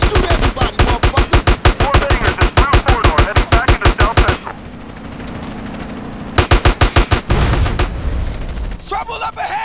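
Rapid automatic gunfire rattles out in GTA San Andreas, a loud, evenly spaced burst of shots, a short pause filled with background noise, then another burst and a few scattered blasts.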